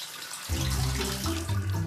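A close spray of shower water hisses steadily, with a low rumbling tone joining in partway through, in an animated cartoon.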